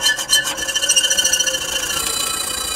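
Hand saw cutting through PVC pipe clamped in a hitch-mounted vise, a steady close rasping stroke rhythm that runs continuously, alone with no talk.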